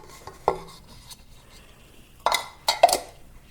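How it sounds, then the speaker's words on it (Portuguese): Refined sugar mixed in a bowl for chocolate dough: a few scattered scrapes and clinks of a utensil against the bowl, quiet between strokes, with a cluster of quick knocks toward the end. "Vou misturar o açúcar refinado."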